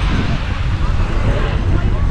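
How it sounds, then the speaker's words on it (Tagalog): Steady, loud wind roars across the microphone in a constant broadband rush, with faint voices mixed underneath. "Lakas ng hangin."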